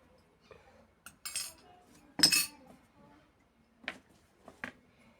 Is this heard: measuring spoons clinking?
yes